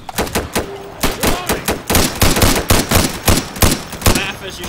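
Rapid gunfire from the video game Insurgency comes in loud bursts of overlapping shots and automatic fire. Voices talk in the gaps.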